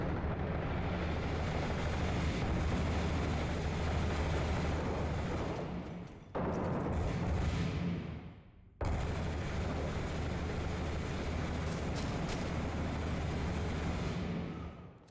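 Dense, continuous suppressing gunfire and explosive roar fill a Six Days in Fallujah firefight, loud and unbroken apart from two brief dips, with no talking.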